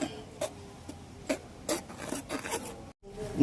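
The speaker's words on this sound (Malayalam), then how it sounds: "ബേക്കിംഗ് പൗഡർ ഒരു അല്പം ഉപ്പ് ഇത്രയും ചേർത്ത് നമുക്കിതൊന്ന് അരിച്ചെടുക്കാം" Flour with baking powder and salt sifted for a cake gives a faint, dry rasping, brushed in short intermittent strokes close by with no voices.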